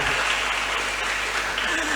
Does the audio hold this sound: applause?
yes